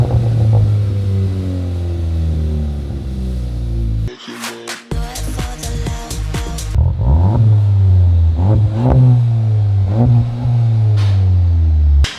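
A 2024 VW Jetta GLI with a straight-pipe catback exhaust, idling with a deep, loud drone, then blipping in sharp revs that crackle and fall back to a rumbling idle, all very close.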